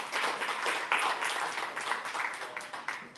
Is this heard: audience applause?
yes